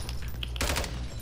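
Gunfire in the video game Warzone: a loud burst of rapid shots lasting under a second, set against a steady low hum and faint background game sounds.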